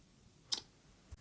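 A single crisp, sharp Google Pixel 6 camera shutter click rings out close by, followed moments later by a faint low thump, in otherwise quiet surroundings.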